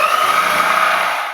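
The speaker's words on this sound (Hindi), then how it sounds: "चलिए हम ड्रिल मशीन की मदद से होल सा की मदद से इसको कटिंग कर लेते हैं।" A power drill fitted with a hole saw cuts a hole for a CPU fan in a homemade power supply casing, giving a loud, steady, high grinding whine that fades out at the end.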